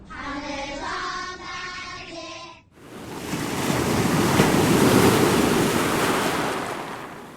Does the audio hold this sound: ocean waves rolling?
yes